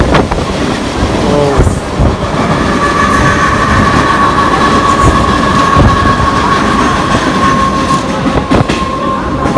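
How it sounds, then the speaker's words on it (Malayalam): Trains rumble steadily along parallel tracks at Bandra, Mumbai, with a sustained metallic tone and occasional clattering of wheels, loud and close. "ഒരേ സമയത്ത് 4 ട്രെയിൻ ഇങ്ങനെ ഒരേപോലെ പോകും."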